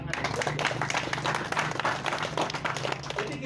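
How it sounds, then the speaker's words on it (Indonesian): Village crowd at a community gathering in Banjarsari, Jember claps briefly, a scattered, moderately loud patter mixed with murmuring voices and talk. "Wah, tepuk tangan."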